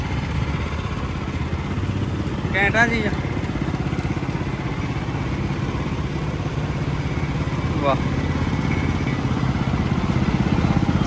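A small engine runs steadily on a roadside sugarcane juice cart, a low continuous drone close by with a couple of brief clinks, while someone talks over it.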